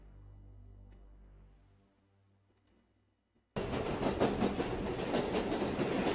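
A subway train rumbles in a preview sound, starting with low engine hum that fades to near silence, then bursting into loud, sustained rail clatter and rushing noise.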